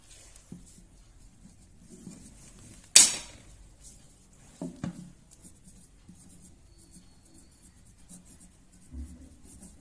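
Writing on a board during a Class 7 mathematics lesson: faint, sparse scratchy strokes with one sharp knock early on and a few soft taps later, in a quiet room with no talking.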